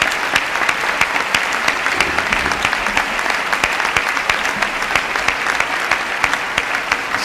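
Sustained audience applause fills a formal award ceremony for the 1997 Prince of Asturias Awards as a renowned violinist acknowledges the crowd; dense, steady clapping throughout, loud and continuous with no talk over it.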